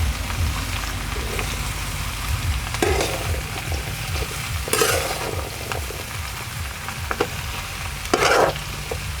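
Spiced pumpkin pieces sizzle steadily in a pan while a spoon stirs them, with repeated scraping strokes and occasional louder scrapes over continuous frying crackle, close and fairly loud.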